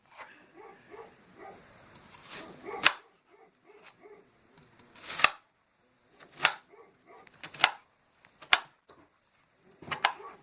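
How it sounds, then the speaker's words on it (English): A knife chops peeled onions on a cutting board, giving sharp, irregular thuds spaced a second or two apart. Softer scraping and handling noises fall between the chops. "Peeled all the onions, and now I'm just cutting them up into dicing them."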